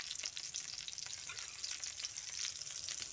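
Pointed gourd (potol) fries lightly in a pan for chhana potol, a bright continuous sizzle with crackling spits and occasional stirring, close and fairly quiet.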